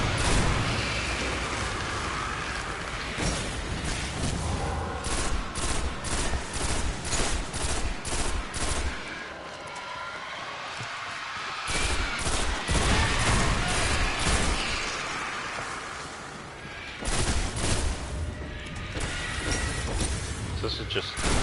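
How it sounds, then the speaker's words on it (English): Rapid bursts of video game gunfire, sustained rattling volleys with brief pauses, loud and close throughout, with a player talking over the shooting in places. "So this is just shooting."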